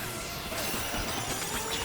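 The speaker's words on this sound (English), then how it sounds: "Smashing for gold." Crashing, smashing game effects from Donkey Kong Bananza as the ape breaks terrain for gold, a steady dense clatter of debris with bright crunchy impacts running throughout at an even loudness.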